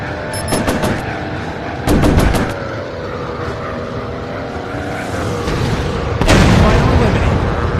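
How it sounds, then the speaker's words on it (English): In World of Warplanes, a warplane fires bursts of rapid guns and whooshing rocket launches in several clusters over a continuous engine drone, with voice callouts heard throughout. "Rocket away! Firing rockets!"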